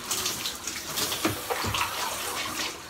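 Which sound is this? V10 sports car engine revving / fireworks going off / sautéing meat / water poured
water poured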